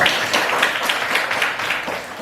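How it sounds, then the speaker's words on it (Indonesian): Classmates in a school lesson applaud a student presenter, with a brisk, fairly steady patter of clapping hands from a small group nearby. "Oke, kasih tepuk tangan untuk Citra dong."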